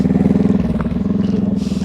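A motorcycle engine runs at low speed during slow-speed riding practice, a loud, close, rhythmic thumping idle with slight throttle blips and a faint clatter, no talking over it.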